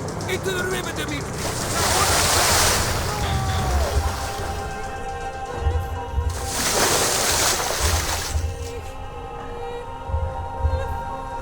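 River water surges and splashes in the video game World at War, with two loud rushing bursts over a constant churning wash and a voice speaking beneath it.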